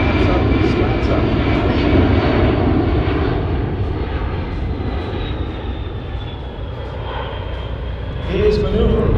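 Loud, steady roar of a C-17 Globemaster III's jet engines at power during an airshow demonstration at Miramar, a continuous broadband rumble that swells again near the end, with faint talk underneath.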